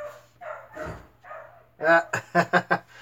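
A speaker talks briefly, then a dog barks several times in quick succession, loud and close.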